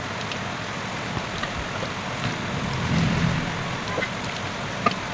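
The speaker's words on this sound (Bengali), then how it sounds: "জানালা দিয়ে যে ভালোই বৃষ্টির আওয়াজ হচ্ছে" Rain falls steadily outside a window beside a main road, giving an even hiss with scattered drop taps and a vehicle swelling past near the middle.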